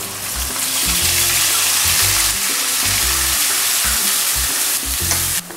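Onion paste fries and is stirred in ghee with bay leaf and cardamom for a restaurant-style navratna korma. It makes a loud, continuous sizzle close up, with a pulsing low background beneath it.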